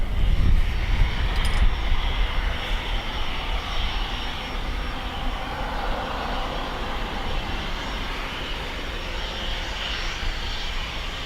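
An aircraft taxiing at Dublin Airport's North Runway gives a steady, moderately distant engine roar and hiss that eases slightly after the first couple of seconds and holds on without talk.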